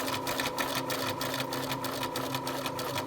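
A sewing machine runs steadily while stitching princess seams on a garment, a continuous even whirr with a fine rapid pulse, moderately loud and close, with no talk over it.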